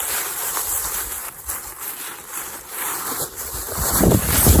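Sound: waterfall

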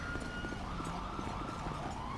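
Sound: fire engine siren in video game GTA 5

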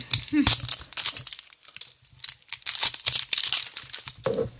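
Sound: opening a foil-wrapped chocolate surprise egg

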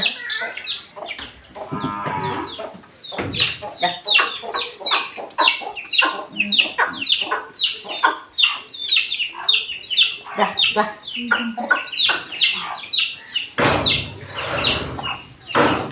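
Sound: chickens clucking

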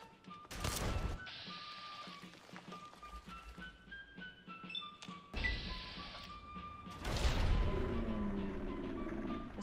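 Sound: grenade explosions in a Bethesda video game demo

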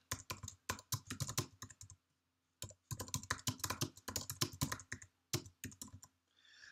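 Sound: typing a message on a computer keyboard

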